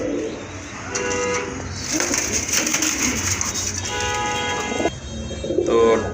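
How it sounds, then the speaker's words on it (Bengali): A pair of Rajgolla pigeons coo softly at close range, their low murmuring calls recurring over a steady background hum, with a brief brighter chirp near the end. "এক জোড়া রাজগোল্লা কবুতর দেখতে পাচ্ছেন"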